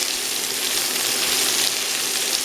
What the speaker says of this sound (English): we're going to have to fry these probably about 10 to 15 minutes